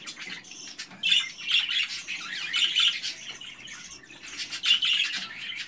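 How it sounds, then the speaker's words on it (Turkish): Young and for-sale budgerigars, Japanese-type parakeets, squawk and chirp in a cage, with sharp calls bursting out in clusters over a faint chattering background. "Yeme düşen yavrularımız ve satılık olan kuşlarımız bunlardır."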